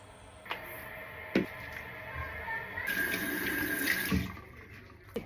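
Tap water running into a sink while a face is washed, with soft splashes and a few sharp knocks and clatters, the flow growing louder toward the end.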